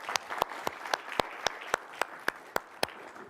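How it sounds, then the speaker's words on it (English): An audience claps at a community event on immigration stories at a public library, with sharp, evenly spaced claps sounding close over a soft wash of scattered clapping, about a dozen strikes in a few seconds. "let's all give them a round of applause"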